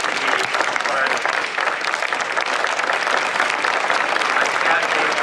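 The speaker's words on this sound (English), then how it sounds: "I'd like you all to stand up, and I want to give you applause" A large crowd at a dedication ceremony on Main Street, USA at Disneyland claps and cheers in dense, continuous applause that stays loud and steady throughout.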